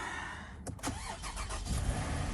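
A car engine cranks briefly and catches, settling into a steady, throaty idle that grows fuller toward the end.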